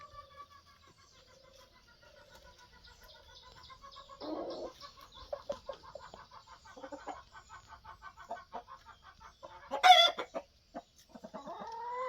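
Chickens, including a cockerel, cluck softly and continuously nearby in a hen house, with a louder squawk near the end, all without any talking.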